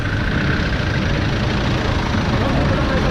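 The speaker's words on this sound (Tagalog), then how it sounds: "itong jeep na isa rin wala rin driver pero bukas po yung makina" A parked jeep sits with its engine left running and no driver aboard, giving a steady low idling rumble under constant street-level background noise.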